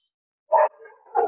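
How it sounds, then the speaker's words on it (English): A dog barks twice close by, a short sharp bark followed by a softer, drawn-out one, with silence before and no talking. "my dog is also started barking now"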